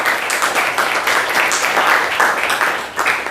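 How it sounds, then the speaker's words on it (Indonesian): A classroom of students applauds a presenting student group, lively uneven clapping from a modest crowd, fairly close and loud, with slight pulses in intensity. "beri tepuk tangan dulu untuk kelompok Robian"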